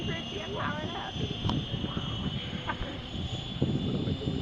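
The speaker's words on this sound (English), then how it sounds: "Go, helicopter. Go." A helicopter in New Zealand or Australia, a steady whirring engine drone with a high whine held throughout, moderately near, while people talk over it.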